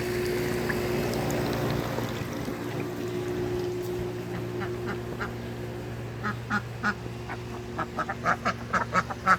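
Ducks quacking in a garden, starting under a steady background hum and building into a series of quacks that grow louder and more frequent toward the end.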